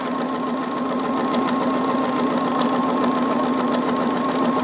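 A sewing machine stitches a quarter-inch seam on a quilted heart, running as a steady, even whir close by and never stopping.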